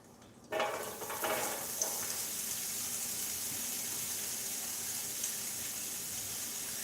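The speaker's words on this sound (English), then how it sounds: "olive oil is making noise, so I'm going to add in my red onion" Chopped red onion hits hot olive oil in a pan and bursts into a loud sizzle, settling into a steady, close frying hiss that continues without talk.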